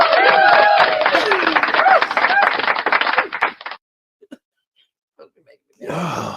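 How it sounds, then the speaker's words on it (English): Applause sound effect cued in a casual talk recording, a dense burst of clapping and cheering lasting a few seconds before cutting off into near silence, with a voice returning at the end. "Now, hit the applause."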